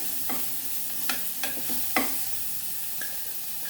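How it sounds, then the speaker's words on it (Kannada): Chopped onions fry over a low flame in a pan for drumstick fry, a steady soft sizzle broken by a few sharp scrapes of a spoon stirring, close and fairly quiet with no voices. "ಫ್ರೈ ಮಾಡ್ತಾ ಇದ್ದೀನಿ ಇದು ಒಂದು ಸ್ವಲ್ಪ ಚೆನ್ನಾಗಿ ಫ್ರೈ ಆಗಬೇಕು ಸ್ವಲ್ಪ ಗೋಲ್ಡನ್ ಕಲರ್ ಆಗಬೇಕು"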